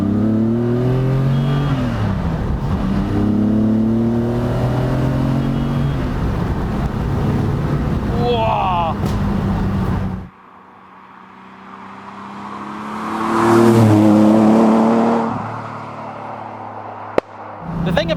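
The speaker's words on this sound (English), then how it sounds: "let's drop it down to second, give it some beans" A 4.5L TVR Tuscan S pulls hard in second gear, its engine note climbing loud and close through repeated surges, then dropping away briefly before swelling again, with a voice talking over it.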